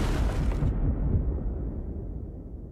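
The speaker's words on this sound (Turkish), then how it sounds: "Her zamanki gibi patlamayla bitirelim." A single heavy explosion bursts loud and close, then its booming rumble fades away over a couple of seconds, with no voices.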